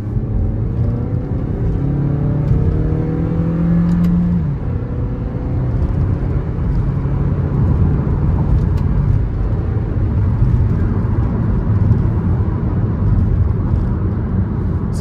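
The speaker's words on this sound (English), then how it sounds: "It actually feels quite happy to be revved." A 2023 Suzuki S-Cross with a 1.4 litre turbocharged engine revs as it pulls away, its pitch climbing for a few seconds before easing into a steady rumble of road and engine noise heard from inside.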